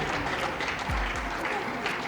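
An audience applauds at a high school quiz final between two lycée teams, a steady wash of clapping at moderate loudness with a few low thumps and some voices mixed in beneath.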